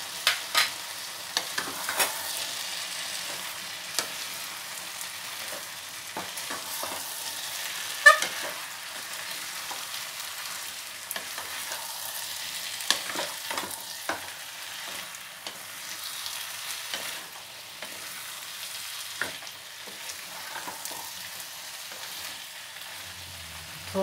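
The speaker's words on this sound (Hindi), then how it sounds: "थोड़ा सा इसको फ्राई कर लेते हैं" Potatoes, carrots, beans and cauliflower stir-fry in a pan for veg biryani, giving a steady soft sizzle broken by frequent clicks and scrapes of a spoon stirring, with no talk.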